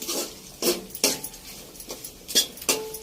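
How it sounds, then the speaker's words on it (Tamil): A spoon scraping and clanking against a pan while cumin, green chilli, onion and beans are stirred, in a few irregular strokes heard close up. "அதுக்கப்புறம் பீன்ஸு போட்டு இந்த மாதிரி கிண்டணும்"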